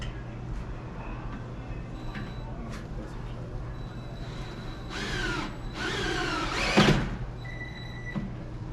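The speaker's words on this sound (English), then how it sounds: "this is the screw tool that comes with it to screw the one-way lag bolts" A power drill drives one-way lag bolts into a security door during installation, giving short rising whirring bursts in the middle of the clip over steady background hum.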